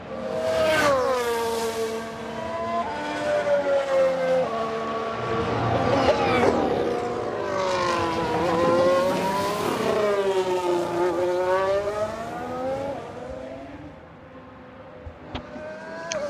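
Race car engines in the F1 Manager video game howl at high revs, pitch rising and falling in repeated sweeps as cars pass and change gear, loud and continuous with no talking.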